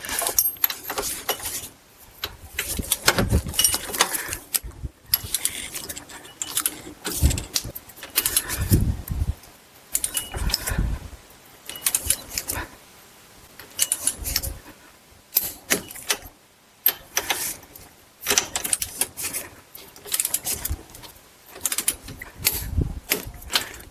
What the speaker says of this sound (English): Then we're going to tighten these down to 108 foot-pounds.